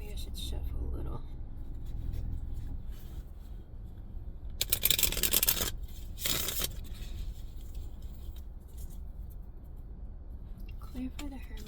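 Tarot cards are shuffled in two short bursts of crisp riffling and flicking near the middle, with quiet handling sounds and soft speech around them.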